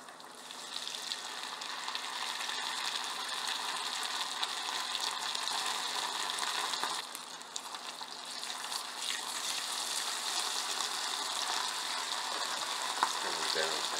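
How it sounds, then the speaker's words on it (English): Bluegill (bream) pan-frying in hot grease gives a steady, dense sizzle and crackle that holds fairly loud and close throughout, with small pops and bursts scattered through the hiss and no talking over it. "If it starts to fry up, then you know the grease is hot enough to fry fish in."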